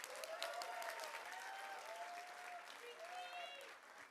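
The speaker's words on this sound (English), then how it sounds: "Please give them a huge round of applause." Wedding reception guests clap for a performing group, a fairly faint, even patter of applause heard at a distance, with a voice talking over it and sustained musical tones throughout.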